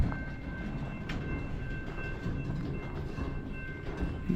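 A BNSF auto rack freight train rolls steadily past a road crossing, a continuous heavy rumble of railcars with faint clicking wheels and a steady tonal whine, close and sustained throughout without any voices.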